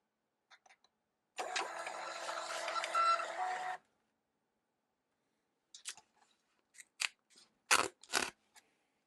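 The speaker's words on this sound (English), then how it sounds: "it printed the self-test on multiple labels there" A MUNBYN RealWriter 403B thermal label printer prints self-test labels: a brief buzzing feed run of a couple of seconds, followed by quiet, then scattered sharp clicks and snaps of labels being handled up close.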